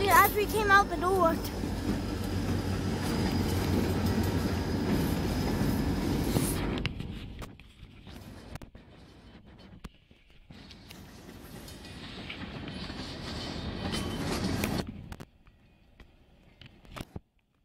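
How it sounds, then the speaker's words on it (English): A St. Lawrence Railroad train rumbles past up close on Nickle Street, a loud steady roar with rattling wheels that fades, then swells again before dropping off; a voice speaks at times. "Finally, early train."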